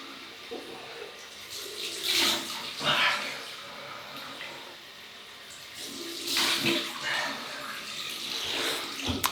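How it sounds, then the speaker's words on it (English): Tap water runs in bursts into a sink for a cold rinse during a wet shave, splashing and gurgling as hands scoop it, with quieter pauses between rinses. "cold water rinse"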